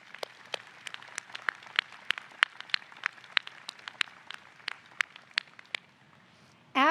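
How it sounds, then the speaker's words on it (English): Sparse, scattered claps ring out one at a time in an otherwise quiet room at a graduation commencement ceremony, irregular and fairly faint. "please join me in a last round of applause for everyone who has made your graduation possible"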